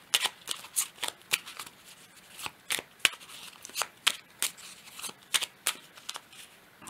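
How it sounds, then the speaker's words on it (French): Oracle cards being shuffled and drawn from a deck: a run of quick, crisp papery riffles and flicks in an irregular rhythm, close and fairly quiet, with no voices. "on va prendre une dernière petite carte pour clôturer"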